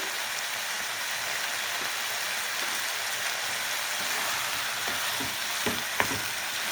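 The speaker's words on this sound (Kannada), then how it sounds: "ಚೆನ್ನಾಗಿ ಎಣ್ಣೆಯಲ್ಲಿ ಫ್ರೈ ಮಾಡ್ಕೋಬೇಕು" Spices fry in hot oil for egg masala, a steady close sizzle with soft crackles and a few sharper pops toward the end, with no talking.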